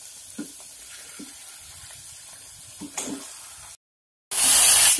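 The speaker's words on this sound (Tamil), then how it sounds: "இப்போ இதோட நம்ம சிக்கன் சேர்த்துக்கலாம்." Chicken pieces dropped into a pan of frying onions, with faint stirring and scraping, then a brief silence and a sudden loud, close hiss of sizzling at the end.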